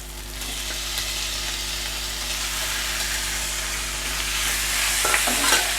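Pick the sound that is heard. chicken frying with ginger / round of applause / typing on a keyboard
chicken frying with ginger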